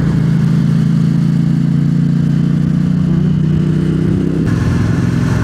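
Yamaha XSR700 motorcycle being ridden, a steady engine drone with constant wind rush and a slight pitch shift near the end, loud and continuous.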